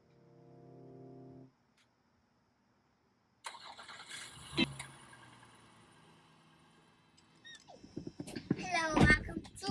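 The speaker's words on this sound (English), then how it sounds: "Start the car." Car engine cranking and catching, a brief starter whir at the opening followed by silence, then faint idle and movement noises as people begin talking nearby.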